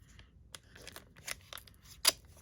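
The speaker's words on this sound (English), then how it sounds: "scissors would help" Scissors snip through subscription box packaging with a few quick, crisp cuts and a louder final snip, close and dry.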